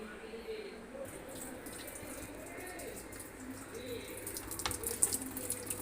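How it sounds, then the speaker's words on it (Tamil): Water trickles weakly through the faulty inlet solenoid valve of a Samsung top-load washing machine, making a faint, steady, thin flow close by, with a slightly brighter splash toward the end. "வால்வ் ஆன் பண்ணால் எவ்வளோ ஃபாஸ்ட்டாக வருமோ அந்தளவுக்கு வரல, சும்மா லைட்டாக வந்துட்டுருக்கு"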